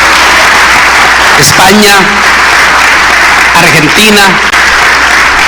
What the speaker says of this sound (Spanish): Demos un aplauso de bienvenido a los miles que se nos están uniendo en este momento